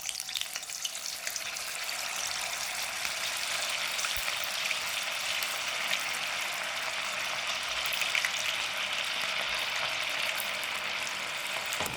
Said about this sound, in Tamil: எண்ணெய் காஞ்சி எடுத்து இப்போ ஒன்றா இதில் போட்டுட்டு பொரிக்கலாம்.